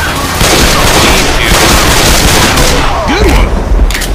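Rapid gunfire in a co-op zombie shooter game, loud close bursts of automatic shots running nearly continuously, with voices calling out over the fire.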